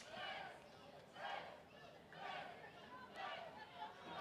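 A crowd in the stands at an 8-Man all-star football game makes noise in rising and falling waves of cheering and chatter, distant and faint, four swells in quick succession.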